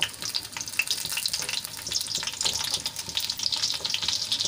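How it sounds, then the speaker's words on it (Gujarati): Eggplant frying in hot oil in a kadai, a steady dense crackling sizzle close by, with faint stirring and some watery bubbling running throughout. "એમાં આપણે રીંગણાને તળી લેવાના છે"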